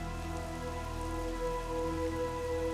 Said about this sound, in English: Are we ever gonna animate rain correctly?